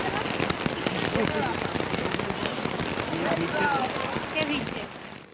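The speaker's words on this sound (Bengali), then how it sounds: "ঠিক এইরকমভাবেই ঝমঝমিয়ে বৃষ্টি হয়েছিল ঘন্টার পর ঘন্টা ধরে।" Heavy rain pours steadily on a surface throughout, a dense continuous roar with scattered drop hits, while voices murmur faintly beneath it.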